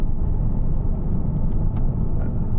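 Engine of a 2012 Porsche Cayman 2.9 (987) with PDK gearbox during a paddle downshift, heard as a steady, close, low rumbling drone with slight swells, no talking.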